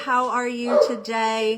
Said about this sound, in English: Sorry if you hear the dog barking in the background.